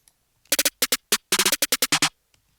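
A second snare roll pattern from an FL Studio beat, with short, bright snare hits fired in quick clusters of threes and twos and a few gaps, close and loud with nothing else underneath.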